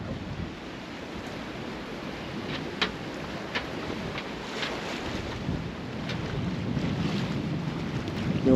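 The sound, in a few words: sailboat under sail with wind and waves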